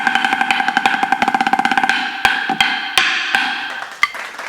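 A drum is struck in rapid double strokes, first as a dense, even run of hits, then slowing to a few separate sharp accents with short ringing tails, close up and with no voice.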